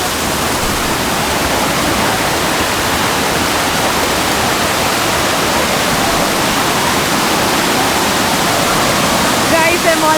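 Kothapally waterfall after rain, muddy mountain water pouring over rocks in a loud, dense, unbroken roar heard close up, with a faint voice briefly near the end.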